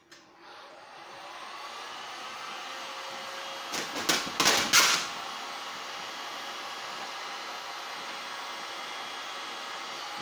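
A heat tool blows with a steady, close, hissing whoosh as it heats the covering film on an aileron, broken midway by a few brief louder rustling bursts before the even roar resumes.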